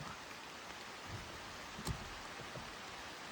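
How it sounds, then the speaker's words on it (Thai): Rain falls steadily on a forest setting where wild elephants are being watched, a soft, even hiss of drops with a few brief louder patters, and no one talks. "โอ้ยฝนตก"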